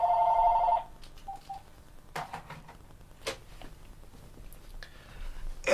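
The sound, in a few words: telephone ringing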